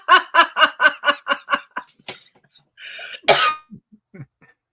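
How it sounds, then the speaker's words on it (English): A rapid burst of coughs in quick rhythmic succession, followed by a few sharper coughs and throat clearing, close and loud. "Sorry, I had to cough."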